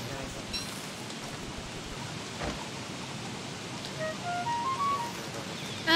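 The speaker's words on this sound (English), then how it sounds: "It's raining so much." Rain falls in the video game Don't Starve Together, a soft continuous patter and hiss at moderate level, with brief game tones and chimes rising near the end.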